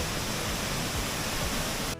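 A waterfall roars inside a cave chamber as a loud, dense, continuous rush of water that cuts off abruptly at the end.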